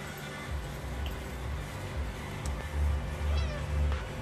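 A cat meows near a dog under a steady background hum, with a few faint calls over about four seconds.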